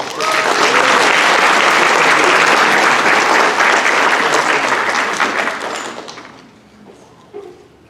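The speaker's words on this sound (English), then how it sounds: "Please give them a round of applause." Audience applause at a Pilipino Cultural Night at Stanford University, loud sustained clapping from a large crowd that holds steady for about five seconds before tapering off into scattered claps and quiet.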